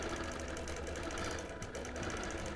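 A sewing machine runs continuously while free-motion quilting a Bonnie & Camille print wholecloth quilt with Grunge Aqua, a steady mechanical whir and rapid stitching hum with a brief dip midway.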